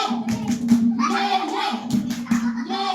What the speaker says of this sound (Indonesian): Tepuk tangan semua. Tepuk semangat.